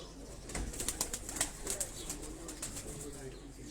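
Pigeons coo and flap their wings around a home loft in Lahore, soft repeated calls and brief wingbeats close by over a steady background hum.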